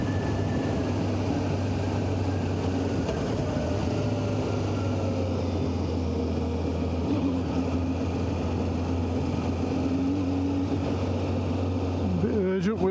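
A 1990 Honda CBR600F motorcycle engine pulls under throttle on a countryside ride. It makes a steady, loud droning hum mixed with wind rush, and the engine note climbs near the end.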